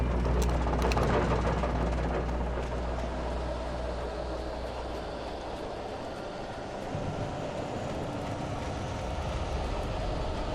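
A train passes in the video game Alan Wake, a loud, steady rumble with rattling clatter that stays continuous and close throughout, without talk.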